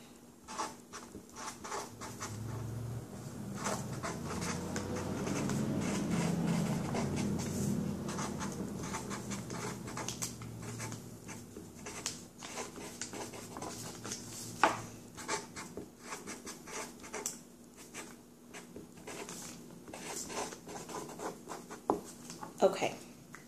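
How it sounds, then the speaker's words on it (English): A pen scratches steadily across a petition paper in hand, with close, continuous rubbing strokes and small taps that run on for a long stretch, under faint background noise. "So now that I've written my petition paper"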